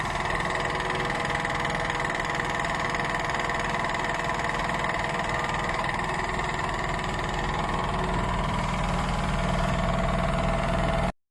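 Dual blade CNC cutting machine for flexible PU foam running steadily at speed, a continuous broadband mechanical drone with a low rumble and vibration, loud and close, with no voices.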